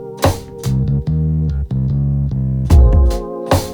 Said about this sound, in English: I automated that up to get a nice bit of crunch and distortion on it just for that section.